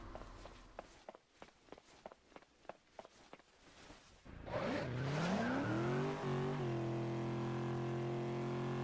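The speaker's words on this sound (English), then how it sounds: "We'll just have a quick spin in this vehicle" Video-game footsteps patter along in Disney Infinity before a vehicle starts up and drives off, its engine climbing in pitch and then settling into a loud, steady hum.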